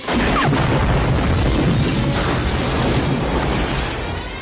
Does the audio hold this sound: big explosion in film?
yes